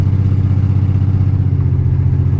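A BMW 325xi E46 engine runs steadily while the car drives down the road, a constant low hum with a rhythmic pulsing drone close to the microphone, no voices over it.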